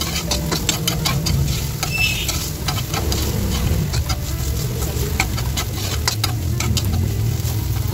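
Ginger and garlic sautéing in a hot pan, a steady close sizzle and crackle with scattered stirring scrapes, and no talk throughout.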